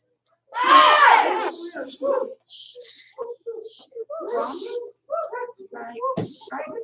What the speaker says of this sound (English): I want to hear a loud whoop on every move.